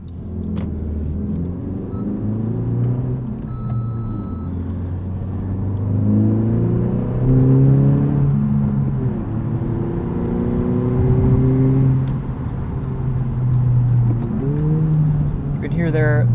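A 2020 Honda Civic Si sedan with a six-speed manual accelerates through the gears, its engine note rising and dropping with each shift, heard from inside the cabin as a steady, moderately loud drone with brief dips between gears.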